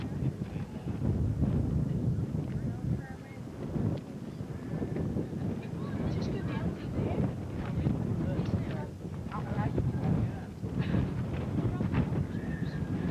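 Strong wind near the top of a rock formation in a national park buffets the microphone in rough, gusty bursts, with faint voices underneath.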